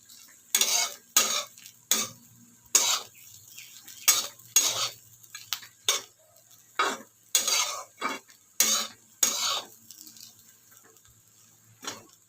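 Fried peanuts are stirred into crumbled chapati in a pan, with about a dozen distinct scraping strokes of a spatula against the metal, close and uneven in rhythm, with no talk.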